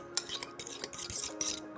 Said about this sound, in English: so we just gotta stir it up.